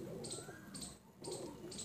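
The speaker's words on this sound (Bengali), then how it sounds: "পায়রাগুলো ওল্ড জেনারেশনের পায়রা" Pigeons of an old breed line cooing softly in a loft, low murmuring coos under repeated bright chirps that come in short regular bursts, fairly close and quiet.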